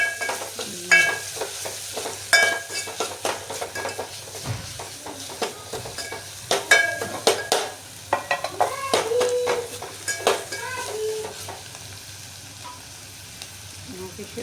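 Turmeric and coriander-cumin powder fry in a pan for spinach dal, a soft sizzle under repeated sharp scrapes and clinks of a spoon stirring against the metal pot.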